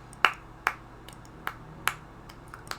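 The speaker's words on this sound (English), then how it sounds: "Golf claps for Nancy." Sparse, polite golf claps: about six light, crisp claps spaced roughly half a second apart, soft and close, with quiet gaps between them and no talking.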